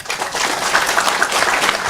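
Audience at a religious lecture breaks into steady, dense applause, a loud wash of many hands clapping together for about two seconds with no pause.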